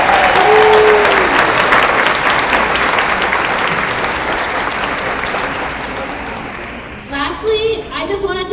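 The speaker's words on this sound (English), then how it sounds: "Let's give them a big round of applause." At an MBA graduation ceremony, a large audience breaks into sustained applause for the parents, family and friends, loud at first and gradually fading, before a speaker's voice returns near the end.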